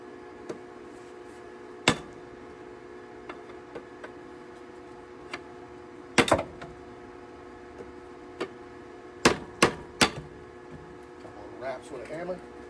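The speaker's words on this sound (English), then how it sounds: "Smack on that starter a couple of times." A hammer strikes the starter of a Honda Civic that won't start, with several sharp metallic clanks, some single and some in quick clusters, over a quiet steady hum.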